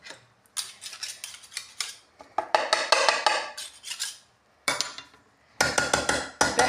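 Bread dough being mixed in a bowl by hand and spoon: repeated close scraping, squelching and clattering bursts in uneven rhythm, with short pauses between strokes.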